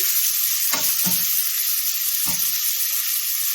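Garlic and ginger browning in a pan for curried red lentils, a loud, close, bright sizzle that holds steady throughout, broken by a few soft stirring knocks.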